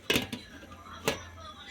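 A pot and metal utensils clink and scrape while soup cooks, with two or three sharp knocks close by and quiet kitchen background between them.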